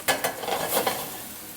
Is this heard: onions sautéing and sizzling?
yes